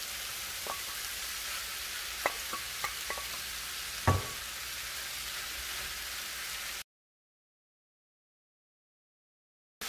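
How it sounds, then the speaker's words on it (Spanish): Chicken pieces added to a pan with tomato for chicken fajitas, giving a steady soft sizzle of frying with a few scraping clicks of stirring, then the sound cuts to silence. "Ahora le voy a agregar el pollo para que se integre todo muy bien."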